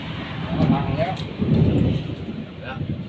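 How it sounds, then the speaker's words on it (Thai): Low thunder rumbles in two rolling swells, deep and fairly close, fading into a soft steady background. "ฟ้าร้องนะครับ"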